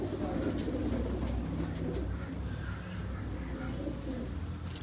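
A pink-eyed pet pigeon coos softly and steadily at close range, with low rounded calls running continuously through a noisy loft backdrop.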